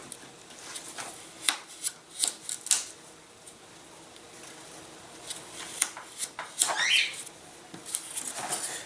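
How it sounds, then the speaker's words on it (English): A hobby blade cuts the ailerons loose from a model airplane wing, giving scattered small clicks, snips and scratchy crackles with pauses between them, close and fairly quiet, with no talking. "we're going to go ahead and cut the ailerons, or flaperons"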